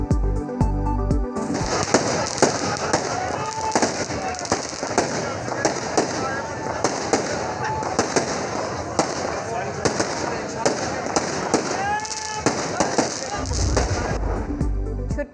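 Firecrackers bursting in a dense, continuous crackle at a street celebration of an election victory, loud and close throughout, with crowd noise and voices mixed in.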